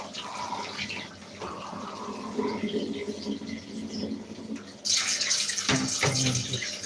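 Tap water runs into a container with washing-up liquid, building suds while a Dyson vacuum is being unblocked; a steady rushing splash that turns louder and brighter midway, with clinks and knocks near the end.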